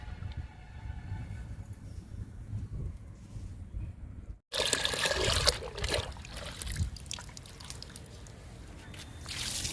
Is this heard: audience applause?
no